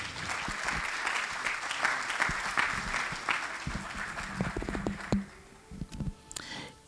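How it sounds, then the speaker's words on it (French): Audience at a national transport conference in a hall applauding a speaker, steady loud clapping for several seconds that tapers off, with faint voices as it fades. "On va faire de vifs applaudissements pour Monsieur Yacouba Koné."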